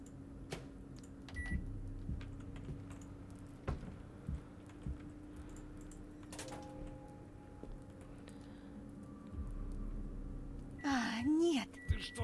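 Microwave oven humming steadily in the horror video game Metel, a low continuous drone with faint clicks and a brief rising tone near the end, under quiet background talk.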